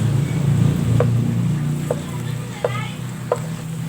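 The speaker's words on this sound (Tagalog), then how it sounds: "Bagoong guys, yan igisa lang natin guys." Shrimp paste (bagoong) sautéed in a pan for adobong kangkong, a low steady sizzle under a background hum, with a few short scraping stirs of a utensil spaced about a second apart.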